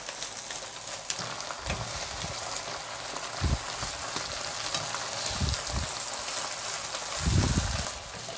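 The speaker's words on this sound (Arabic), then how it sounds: "هفضل بقى اقلب كل الكميه كده لحد ما تهبط خالص" Leafy greens heaped in a frying pan crackle and hiss steadily while they are tossed, with intermittent low thumps and scrapes from the stirring at close range and no talk.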